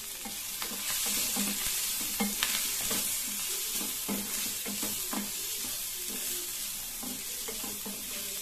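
Vegetables sauté in a hot pan with oregano and chili flakes, giving a bright continuous sizzle punctuated by regular scraping strokes of a spatula against the pan, close and fairly loud.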